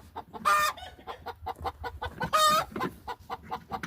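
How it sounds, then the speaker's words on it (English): A hen near a 2000 Mustang under repair clucks loudly just after laying an egg, giving two strong squawking outbursts set among a steady run of nearby clucks. "Got that chicken hollering now because it just laid an egg."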